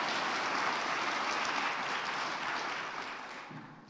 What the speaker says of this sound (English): I want us to clap it up for that